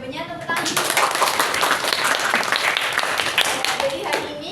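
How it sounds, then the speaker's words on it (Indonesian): Loud, dense clapping from a vocational high school class in an accounting lesson starts suddenly and keeps going as continuous close applause with no pauses, and some voices mix in underneath. "Terima kasih Mbak Intan atas jawabannya. Tepuk tangan"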